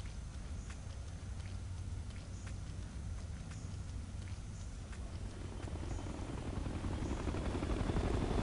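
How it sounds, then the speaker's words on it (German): Helicopter in the video game Ghost Recon: Future Soldier, a low, steady rotor rumble with faint rhythmic blade thumps that grows louder and closer toward the end, heard alone without talk. "Da ist der Hubschrauber."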